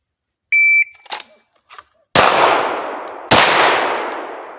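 A shot timer emits a steady electronic beep, followed after a pause by a few small clicks and then two loud, close pistol shots about a second apart, each ringing and decaying, during a draw and fire drill competition.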